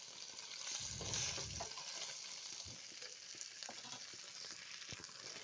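Homemade paneer pieces frying in a pan, a steady close sizzle that swells briefly early on, with soft stirring and turning clicks throughout and no talk.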